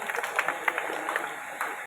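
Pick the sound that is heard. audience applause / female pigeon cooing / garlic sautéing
audience applause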